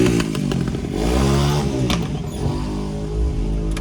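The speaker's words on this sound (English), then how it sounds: "We got two little pit bikes on my left-hand side." Two small pit bikes ride nearby on Allegheny Avenue in Philadelphia, their buzzing engines rising and falling in pitch as they rev close by over a continuous street background.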